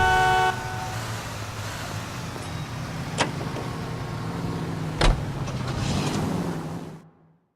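A car in L.A. Noire is driven steadily with a low, even engine rumble, two short sharp knocks or honks breaking through, before the sound cuts out at the end.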